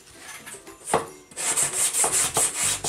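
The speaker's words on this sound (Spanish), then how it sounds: "limar un poco los bordes" A file rasps along the edges of a scrapbooking layout piece: a few tentative scrapes, then a quick series of rhythmic back-and-forth strokes, close and crisp, with no voices.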